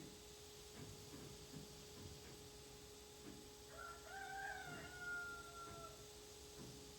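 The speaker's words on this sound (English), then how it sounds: "you can probably hear my rooster across the driveway there" A rooster crows once in the distance across a driveway, a faint drawn-out call over soft background noise and light rain patter.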